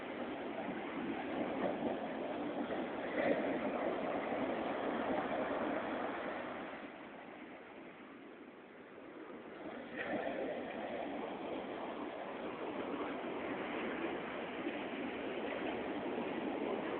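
Sea waves wash onto a beach in the morning, a continuous rushing surf that dips quieter for a few seconds midway before swelling back up.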